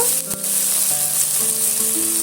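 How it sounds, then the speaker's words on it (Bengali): Chopped tomato with onion frying in a pan for masoor dal with egg, a loud close sizzle with a clatter of stirring near the start, then steady crackling. "টমেটোটা দিয়ে আমি এইভাবে একটু নেড়ে ফেলে নেবো"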